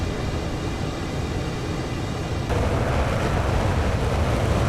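A fighter jet engine roars steadily in the Microsoft Flight Simulator 2020 game, a loud continuous rushing drone that swells louder partway through, with no talking.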